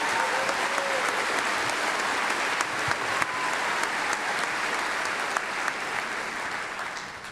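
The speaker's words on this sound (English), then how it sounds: "Can we get a round of applause for these wonderful individuals?" A large crowd applauds steadily at a college commencement, a broad sustained roar of clapping that holds at an even level for several seconds and fades slightly at the end.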